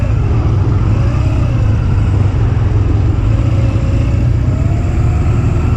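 Motorcycle at low speed during a second gear U-turn on a training course, a loud steady engine rumble with a slight rise and fall in pitch as it rolls on.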